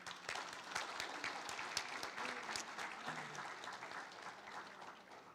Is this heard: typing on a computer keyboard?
no